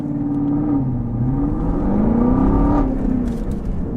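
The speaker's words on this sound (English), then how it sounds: "Do a downshift myself to second gear." Chevrolet Camaro SS 1LE on track, heard from the cabin as a loud engine drone whose pitch rises and falls as revs change during a downshift to second gear, with no talking.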